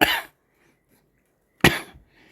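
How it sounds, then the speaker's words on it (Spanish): Two separate dry coughs, close by, with a pause of over a second of near silence between them. "tengo una tos"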